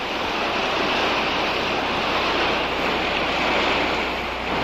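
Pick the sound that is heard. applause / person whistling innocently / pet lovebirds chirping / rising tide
rising tide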